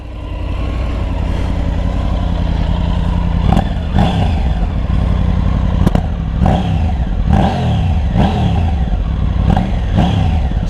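A Triumph Tiger 900 motorcycle engine starts and idles close by, then blips the throttle in a series of sharp revs that rise and fall, with some mechanical clatter and no talking.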